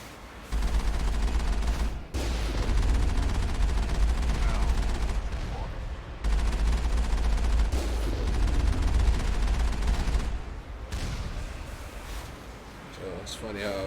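Heavy turret gunfire in the video game Mass Effect 1: dense, loud, sustained bursts of shooting with brief breaks, while a voice talks over the barrage.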